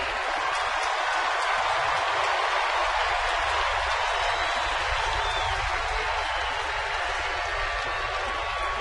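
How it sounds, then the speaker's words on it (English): Stadium crowd at a major league baseball game between New York and San Francisco applauds as a batter comes up to home plate, a steady, dense wash of clapping and crowd noise lasting throughout without pause. "Nice round of applause"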